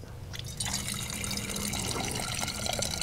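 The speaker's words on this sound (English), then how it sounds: "as you hopefully noticed before I started pouring water in here" Hot water poured steadily into a container during a classroom demonstration, a continuous close splashing and filling rush lasting throughout with no talking.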